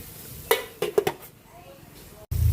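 A metal pot lid clatters and clinks as it is set back onto a pan of simmering picadillo, several close sharp knocks in quick succession, then quiet kitchen sounds and the start of speech.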